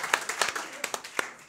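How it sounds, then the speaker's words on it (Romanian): A roast battle audience claps for a contestant, giving scattered, uneven claps at moderate volume over about a second and a half, with a few sharp individual hits standing out. "Aplaudați-l încă o dată."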